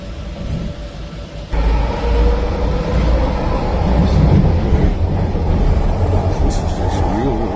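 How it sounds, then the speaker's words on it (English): A train rolls past near New Westminster, BC, arriving with a sudden surge of deep rumble and continuing as a loud, close roar with rattling and wheel noise throughout. "Incoming train."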